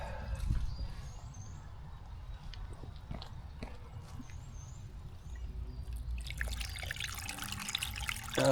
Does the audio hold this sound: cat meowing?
no